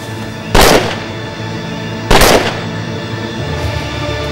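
Two loud, sharp gunshots ring out about a second and a half apart in a tense Turkish TV drama scene, each a sudden broadband crack with a short decaying tail over a steady low background.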